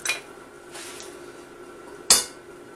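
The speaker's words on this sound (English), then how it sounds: "put in some free-range eggs into the frying pan" A few scattered metallic clinks and clatters of pans and utensils, with quiet gaps between them and one sharper clank near the end, while eggs go into a frying pan.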